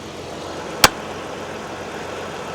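A Mitsubishi 3000GT engine idles with a steady low hum while its drive belt lets out one sharp, very short chirp near the start, then the even idle carries on.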